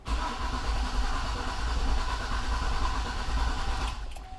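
A 2004 Cadillac Escalade with a no-start fault cranks steadily without firing, a loud close rumbling churn that holds for several seconds before cutting off.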